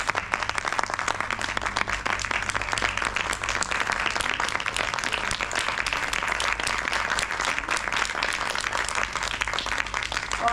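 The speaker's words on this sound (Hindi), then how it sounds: "जोरदार तालियों से अभिनंदन।" Dense, steady applause fills a teachers' awards ceremony, with many hands clapping loudly and continuously for about ten seconds and no speech over it.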